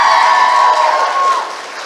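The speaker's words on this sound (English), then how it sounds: "give him a round of applause" A convention crowd at Yamacon applauds and cheers loudly for a guest, the roar holding strong and then fading over two seconds.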